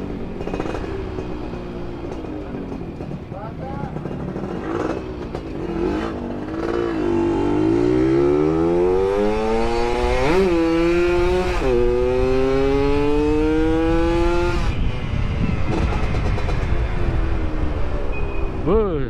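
A motorcycle with an R&R racing exhaust on a Yamaha F1ZR revs repeatedly, rising and falling in pitch with a loud, raspy exhaust, close by and continuous.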